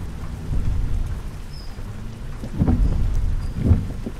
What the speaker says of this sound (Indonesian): Hujan guys, aduh jadi hujan tiba-tiba.